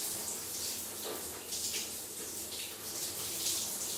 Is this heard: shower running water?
yes